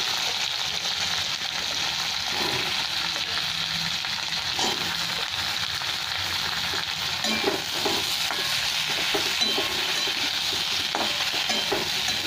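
Ridge gourd and potato frying in a pan with tomato, heard as a steady close hiss of sizzling oil with occasional stirring scrapes and knocks under it, no voices.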